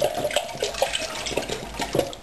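Water, 1.5 liters, pouring into a bowl, a steady splashing stream close by with no talking.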